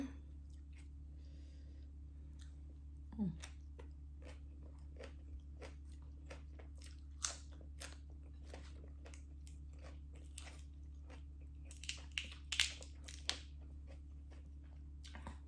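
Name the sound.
chewing and eating som tam papaya salad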